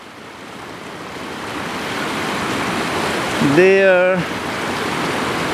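Water rushes over the falls at Achray in a steady, broadband roar that persists throughout, with a brief spoken word partway through.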